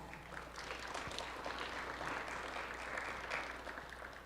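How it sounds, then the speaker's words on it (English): Steady applause from an audience at a university community forum honoring the president, a continuous wash of clapping at moderate distance that holds evenly throughout. "Please give him a round of applause for that."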